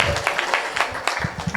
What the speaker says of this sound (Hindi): जोरदार ताली इन सब शिक्षक गणों के लिए